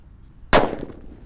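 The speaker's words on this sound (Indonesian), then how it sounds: "Di sini ada mercon thunder ya, gambarnya singa." A single sharp thunder firecracker bang, loud and close, bursting suddenly out of quiet and trailing off in a brief crackling echo.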